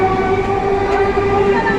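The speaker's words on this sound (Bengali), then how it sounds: "আমরা স্টেশনে এসে গেছি আর ট্রেন দেখছে" Train at a railway station, a loud, steady rumble with a sustained tonal hum, heard close.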